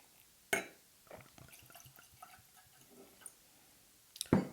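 Michter's Barrel Strength Rye whiskey, 2019 release, is poured into a glass, giving a soft, close trickle with faint drips and small clinks. A sharper knock sounds near the start and another at the end.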